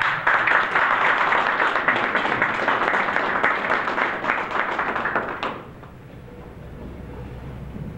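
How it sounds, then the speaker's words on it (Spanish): An audience claps to welcome a speaker at a mining technology conference, loud and dense for about five seconds, then cuts off sharply to quiet room tone. "Lo recibimos con un fuerte aplauso,"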